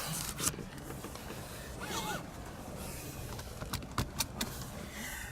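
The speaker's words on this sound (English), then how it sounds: "And put my seatbelt on." Inside an Aston Martin Rapide, a seatbelt is pulled across with soft webbing rustle and scraping, then a few sharp clicks and rattles near the end as the buckle latches, all close and fairly quiet.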